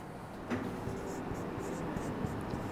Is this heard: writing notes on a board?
yes